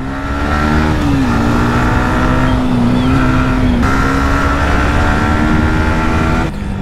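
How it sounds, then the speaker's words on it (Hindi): A motor vehicle moves along a road with a loud, steady engine drone that holds a constant pitch for several seconds, shifting slightly in tone near the middle and again near the end. "कोई आ रहा है गाड़ी है पीछे"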